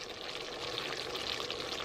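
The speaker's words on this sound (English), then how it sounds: "then we're gonna pour a little vinegar" Vinegar poured into a Caribbean fish and meat sauce, a steady close liquid trickle and splash that runs without pause for a couple of seconds.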